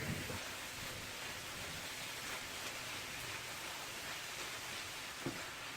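Steady, faint hiss of a rainstorm pouring down, heard from indoors, a continuous wash of noise with no voices.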